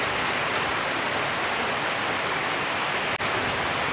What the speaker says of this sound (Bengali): সেটা হচ্ছে আগে দেখা নেই, প্রচুর বৃষ্টি করতেছে